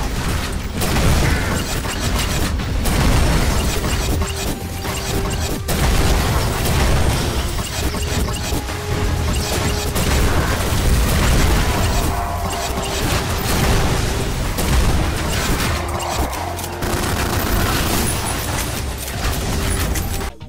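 Home Wrecker projectiles exploding in the shooter Ion Fury: dense, loud, continuous booms and blasts layered with mechanical clanks, filling the whole stretch without pause.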